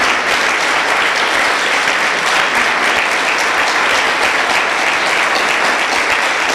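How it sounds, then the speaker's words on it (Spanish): A church congregation in Chihuahua applauding, dense sustained clapping from a large crowd that stays loud and even throughout, with no pauses. "Dale un aplauso al Señor, Chihuahua."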